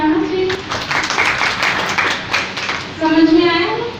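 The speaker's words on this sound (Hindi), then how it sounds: "ताली बजाना चाहिए।" An audience at a Brahma Kumaris spiritual talk in the Nagaur municipal council applauds after a story, with a few seconds of dense, mid-distance clapping, and a speaker's voice just before and after it.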